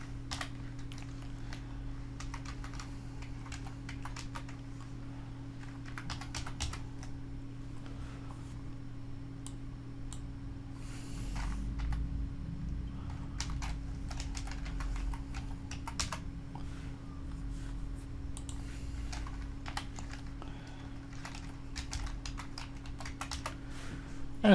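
Close, steady typing on a computer keyboard with quick irregular key clicks over a low electrical hum, with no talk.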